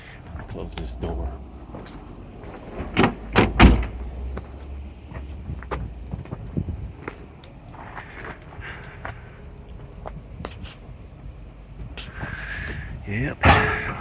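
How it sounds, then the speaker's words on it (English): The door of a 1989 Pontiac Firebird Trans Am convertible in a junkyard shuts with a few solid thuds, including one sharp slam, amid people talking and shuffling around the car. "I'll close this door."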